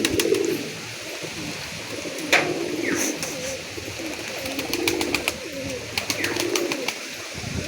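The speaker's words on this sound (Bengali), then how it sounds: "এইটা তার নর, ম্যাচ খেলা পায়রা আছে এটা" Male match-flying pigeon cooing softly in low repeated phrases, with scattered chirps and sharp clicks in a quiet indoor loft, no talking.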